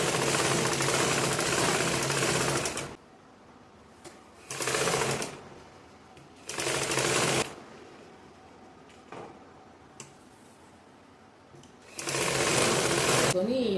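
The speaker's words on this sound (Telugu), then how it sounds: "ఈ విధంగా స్టిచ్ చేసుకోవాలి. రాకుండా సరి చేసుకుంటూ స్టిచ్ చేసుకోవాలి." A sewing machine stitches a blouse lining in four separate runs, each a loud steady whir lasting a second to three seconds, with quiet gaps and light handling noises between.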